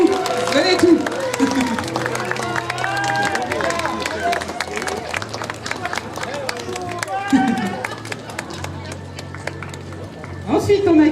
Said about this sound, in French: Vous pouvez continuer à applaudir, lâchez rien.